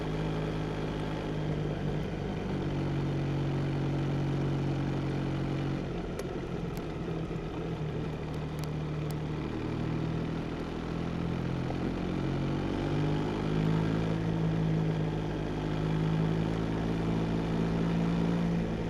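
A Yamaha XSR900 motorcycle's engine drones steadily while held in one gear through corners, its pitch sagging and then climbing again, loud and continuous, with wind rush and no talking.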